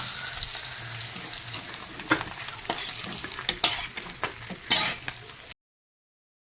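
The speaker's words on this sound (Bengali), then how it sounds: "এই আমার মাছগুলো সব মজমতো করে ভাজা হয়ে গেছে" Koi fish fry in hot oil in a pan with a steady crackling sizzle, broken by sharp utensil clicks and scrapes from turning the pieces, before the sound cuts off abruptly into silence.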